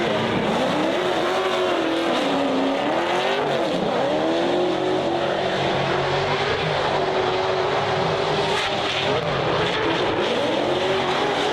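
A drift car's engine revs hard off the start line at a drifting competition, a loud continuous roar with rising and falling pitch sweeps and occasional tire squeal throughout.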